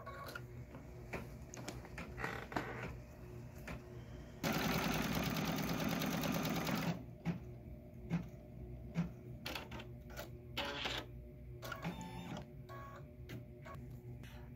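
A computerized embroidery machine stitches small face and heart details on a gingerbread man design, giving rapid mechanical ticking with irregular clicks and one sustained louder whirring burst of a few seconds in the middle.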